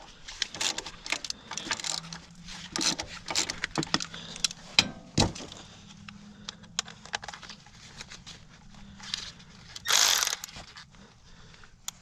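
Cordless Milwaukee ratchet loosening 13mm nuts on a Ford 6.0 fuel filter housing, with bursts of mechanical whirring and clicking separated by clanks and handling noises, close by.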